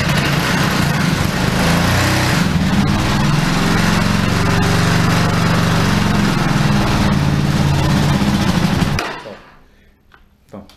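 A Suzuki DR 650 motorcycle engine running roughly and loudly after a hard start, with a steady low rumble and busy clatter throughout before cutting off abruptly near the end, leaving quieter background.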